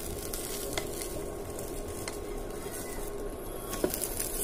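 Moong dal chilla frying in a pan, giving a steady, close sizzle with soft crackling throughout and one brief sharp tick near the end.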